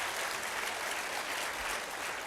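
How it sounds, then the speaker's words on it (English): Audience applause for a panel of speakers at an event, dense and steady clapping from a crowd filling the whole stretch at an even level with no talk over it. "Let's give another round of applause to our panelists today."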